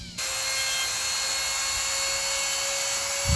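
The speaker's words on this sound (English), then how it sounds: "let's use our little Dremel here" A Dremel rotary tool cleans a freeze plug on a 1967 Pontiac Firebird engine, starting abruptly into a steady, loud high-pitched whine that holds without a break, close to the listener.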